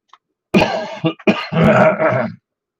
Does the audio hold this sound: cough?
yes